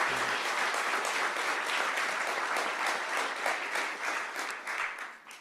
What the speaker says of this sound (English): So please, let's give them a round of applause for their support as well.